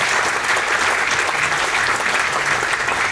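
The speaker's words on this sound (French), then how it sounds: "je voudrais également que l'on vous applaudisse pour ce que vous faites et votre investissement" A seated audience gives dense, continuous applause, a steady wash of many hands clapping at once, loud and close, with no voices standing out.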